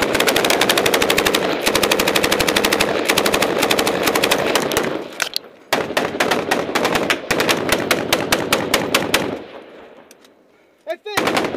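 M240B and M249 machine guns fired by US forces at enemy positions, long loud sustained bursts of rapid rounds with short pauses between, a final few scattered shots after the last burst.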